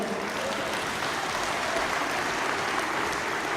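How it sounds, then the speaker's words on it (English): Steady, dense applause from a large audience filling a trade union congress plenary hall, a continuous even clatter of many hands with no speech over it. "That doesn't even qualify for polite applause."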